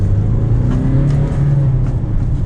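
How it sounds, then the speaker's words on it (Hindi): A Kia Seltos engine drones loudly while driving, its pitch climbing and settling as it revs, a continuous close cabin rumble with no talk over it. "लगभग 4500 RPM तक ये इंजन जो है वो इजीली चला जाता है"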